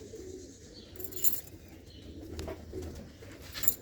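Faint pigeon cooing from a loft of pigeon nesting boxes, soft intermittent coos with a few brief sharp sounds, no talk.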